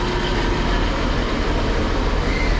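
A Transport for Wales Class 153 diesel passenger unit at a station in North Wales gives a steady, loud rumble of engine and wheels, a continuous broadband roar throughout with no voices.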